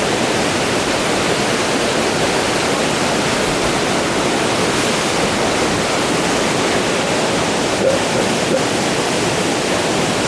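Steady, loud roar of a waterfall in a cold mountain setting near Pahalgam and Gulmarg, broad hissing spray blended with gusting wind, continuous and close with no voices over it.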